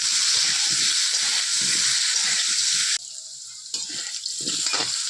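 Potatoes with salt and turmeric sizzling and frying in a pan with rhythmic scraping and stirring, loud and close, briefly quieter before the sizzle picks up again.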